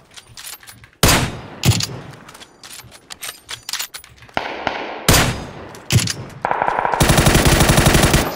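Gunfire in the PUBG video game, with bursts of automatic fire and single loud shots at uneven intervals, some sharp and close, others echoing, ending in a sustained heavy burst.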